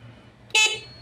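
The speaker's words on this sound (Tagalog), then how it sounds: "Check natin uli yung kanyang busina." The horn of a repaired 48-volt Romai e-bike gives one short, bright honk at close range, cutting in abruptly after near silence and stopping just as quickly.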